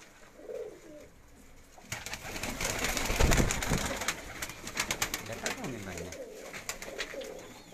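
A pigeon coos in soft, low repeated notes, with bird calls around it. Voices talk over the cooing for much of the stretch.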